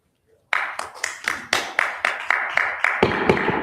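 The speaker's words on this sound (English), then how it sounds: "Please keep your applause to yourself." Scattered hand clapping at a city council meeting in Cape Coral, a dozen or so distinct sharp claps in a steady rhythm, close and fairly loud, thickening slightly near the end.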